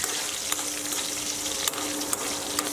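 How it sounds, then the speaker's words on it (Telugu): Ripe green chillies frying in oil for a brinjal and ripe-chilli pounded chutney, a dense, even hissing sizzle with scattered small crackles and pops. "ఈ మిరపకాయలు వేగేంత వరకు వేయించుకోవాలి"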